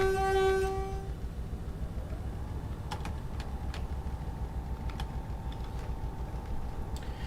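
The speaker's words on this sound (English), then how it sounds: "I'm just going to gently pull away" A Class 57 diesel locomotive in Train Simulator 2020 on the Plymouth to Penzance line pulls gently away with a steady low engine rumble, an early horn-like tone, and intermittent clicks over a sustained hum.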